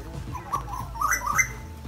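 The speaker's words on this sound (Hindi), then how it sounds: "वो कोयल को कैप्चर करें प्लीज" Asian koel calling in a mango garden in Pakistan: a few rising whistled bird notes stand out moderately over outdoor background noise, with no talking.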